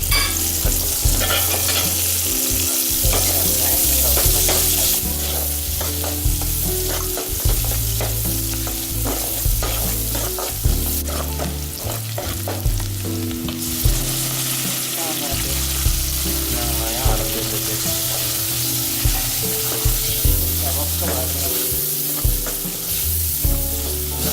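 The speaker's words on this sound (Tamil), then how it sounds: "வெங்காயம் நல்லா வதங்கிடுச்சு" Sliced large onions frying in a pan for parotta and chicken kulambu, a steady loud sizzle broken by regular scraping stirs, with occasional talking.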